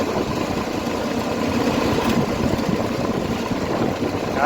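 A tractor engine runs at a steady idle nearby, a continuous low diesel rumble with slight vibration and no pauses.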